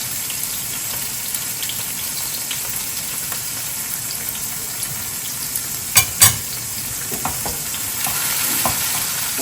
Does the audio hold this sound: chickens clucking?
no